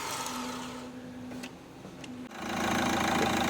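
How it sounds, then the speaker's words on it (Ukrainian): An Opel Zafira engine idles steadily with a mechanical whir, then revs up and settles into a louder, rougher running note. "зібрали зафіру, запустили двигун"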